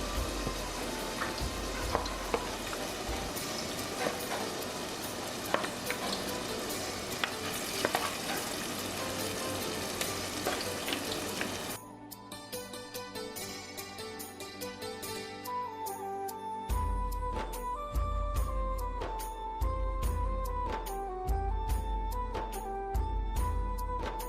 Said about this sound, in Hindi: इसी स्टेज में हम डाल देंगे चिकन जो हमने मैरिनेट करके रखा हुआ है